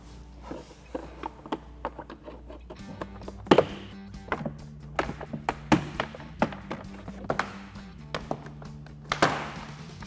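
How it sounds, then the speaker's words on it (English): Plastic trim clips pop and thunk loose as a door card is pried off a Ram 1500 pickup door, a string of sharp taps and knocks, with a low hum underneath throughout. "insert it on the edge of the door card and pry up and pull the door card off of the door"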